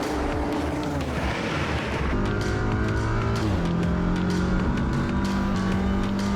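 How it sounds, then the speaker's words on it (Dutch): Racing cars on track at Circuit Zandvoort during Dutch Racing Trophy practice, including touring cars such as an Audi RS3 TCR, with loud continuous engine drone, shifting pitches and overlapping cars. "De teams wachten geen moment en sturen hun coureurs de baan op om de eerste meters af te leggen."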